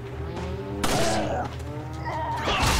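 Gunfire in the video game Resident Evil 4 HD: two loud, sharp shots roughly a second and a half apart, cutting through a steady bed of game music and ambience.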